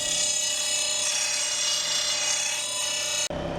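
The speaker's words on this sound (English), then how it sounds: "To get rid of that, I'm going to grind it on the underside." An angle grinder grinds the underside of a bent lawn mower blade, a loud steady high-pitched metallic whine lasting about three seconds before stopping abruptly.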